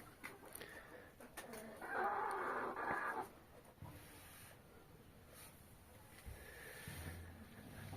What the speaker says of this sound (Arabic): الدجاج العربي يونس، حلو والله